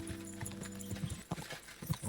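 A horse in the medieval video game Kingdom Come Deliverance II clops over rough off-road ground, with irregular, close hoofbeats in quick succession.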